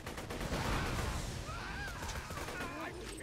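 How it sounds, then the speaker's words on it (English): Fireworks from a fireworks mod in the Borderlands 2 shooter game crackle and pop in rapid bursts over steady game noise, with whistling streaks rising, while a player talks. "Oh, we have freaking fireworks mod."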